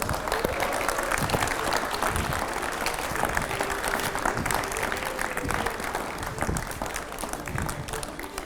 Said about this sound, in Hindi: भाई ताली रुकनी नहीं चाहिए